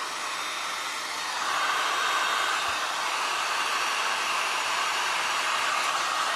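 A hair dryer blows steadily and close, drying glass and resin art of a purple lotus flower, a constant loud whoosh that rises slightly after the first second.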